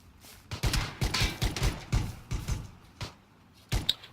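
Pistol shots ring out in a video game shootout, a string of sharp, close reports fired in irregular bursts with brief pauses between them.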